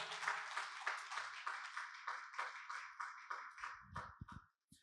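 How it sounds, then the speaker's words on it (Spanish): A church congregation claps in rhythm, steady regular beats that keep going for several seconds, then tail off into a few scattered claps and a brief murmur before falling quiet. "déle ese aplauso fuerte al Señor, hermano"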